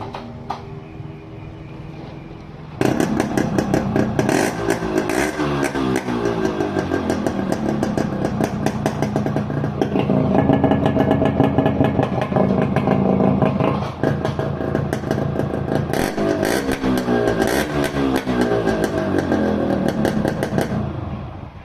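Yamaha RX100 motorcycle fitted with a brass muffler, idling then revving loudly and continuously close by, with a rough, throbbing exhaust note and repeated throttle blips, no talking.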